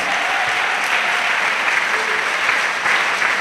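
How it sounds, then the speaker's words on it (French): A church congregation claps together in a loud, sustained round of applause, dense and even from start to finish. "Acclamez encore. Clap once more."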